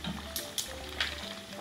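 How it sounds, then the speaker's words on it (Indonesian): Manyong fish frying in hot oil gives a steady close sizzle, with a few sharper crackles and pops breaking through the constant hiss. "Ini tuh aku pertama kali goreng ikan ini."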